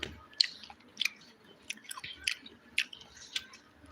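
Close, wet chewing of fried chicken mixed with rice and sambar, soft irregular smacks and bites repeating every half second or so, alone without speech.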